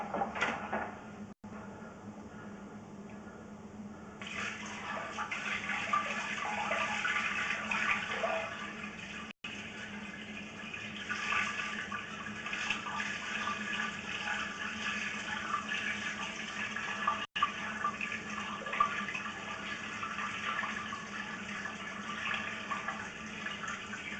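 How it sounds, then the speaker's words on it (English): Roughly two gallons of water released to simulate a toilet flush in unit 101, rushing and draining steadily through the plumbing for over twenty seconds, loud and continuous with a few brief dropouts, no talking. "what I want to do is simulate a flush from unit 101"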